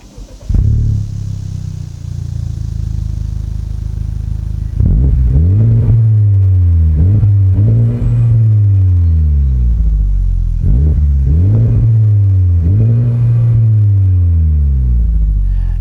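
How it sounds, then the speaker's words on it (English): A Honda Civic Type R with a triple exhaust starts up and idles with a loud, close rumble, then gets revved in a series of rising and falling bursts, about six revs spaced a second or two apart. "let's compare the Civic Type R, which has a triple exhaust outlet"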